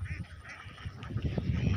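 Ducks by village floodwater giving a short burst of honking quacks, fairly close and moderately loud, over a faint outdoor background.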